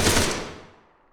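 A single short burst of gunfire in the ACE3 mod for Arma, a loud close crack that rolls off into a fading echo within about a second.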